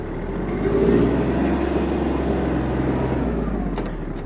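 A Kubota T-240 mini tractor drives off and shifts gears with a steady low diesel drone close by, rising slightly and then holding even for a few seconds.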